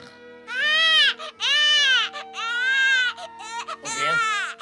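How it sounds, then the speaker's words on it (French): A baby Smurf cries in a cartoon, loud wailing bursts in three or four rising and falling sobs separated by short gasps, heard alone and close. "ne pleure pas, bébé Schtroumpf"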